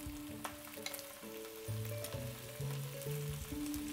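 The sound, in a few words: saltimbocca alla romana frying in a pan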